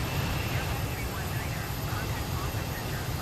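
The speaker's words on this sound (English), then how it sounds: "Just listen to these engines. These older type of A320 engines just have another sound." Older A320-type engines on an A319 airliner in Microsoft Flight Simulator, a loud continuous broadband roar with a deep rumble and faint high whine, steady throughout.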